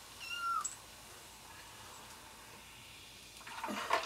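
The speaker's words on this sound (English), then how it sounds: "having a kitten that will not stop talking when you're trying to make a video" A kitten gives a short, high rising meow near the start, followed by quiet room noise, with a second faint, squeaky meow-like sound near the end.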